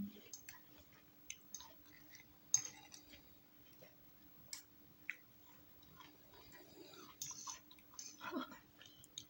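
Someone eating an apple-cherry fruit salad at close range, with soft, irregular wet chewing and faint clicks and bites spread across a quiet room with a low steady hum.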